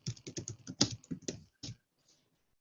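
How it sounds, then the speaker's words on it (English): Someone types quickly on a computer keyboard during an online meeting, a brisk run of close, crisp keystrokes that ends after about a second and a half and leaves near silence. "Kati's typing"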